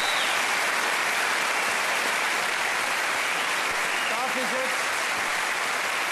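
A television studio audience on the German show Wetten, dass..? claps in a steady, dense wash of applause throughout, with a brief voice surfacing near the end.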